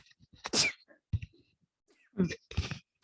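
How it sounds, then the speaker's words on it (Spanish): A woman sneezes close by in a quiet room during a lesson on blood pressure measurement, with a few faint breaths and small sounds around it. "Perdón, voy a estornudar."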